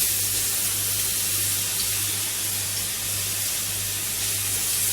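Grated garlic sizzles in hot oil inside a heavy aluminium pot, giving a steady, close, continuous hiss with no talking over it.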